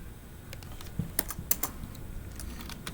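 Router configuration commands typed on a computer keyboard during a networking lab, with a few quick clusters of close, crisp key clicks and some louder single strikes.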